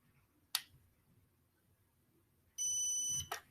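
A Tetrix robot controller beeps while connecting to its remote: a sharp click, then after a pause a loud steady electronic tone lasting about half a second, ending with a brief click.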